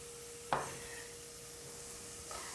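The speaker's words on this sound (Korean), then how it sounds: "자 이제 양파를 한번 볶고요" Onion stir-fried in garlic-infused oil for vegetarian mapo tofu: a soft, steady sizzle, with a brief spatula clack early on and a fainter scrape near the end.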